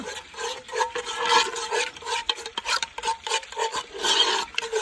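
A spoon scrapes and stirs honey sauce around a bowl in irregular strokes, a close rasping, rubbing sound with no talking.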